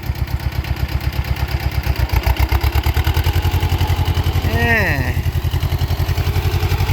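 Engine of a modified motorcycle rigged as a farm vehicle and shifted into second gear; a loud, close, steady thumping idle with an even beat, and a brief rising whine near the end.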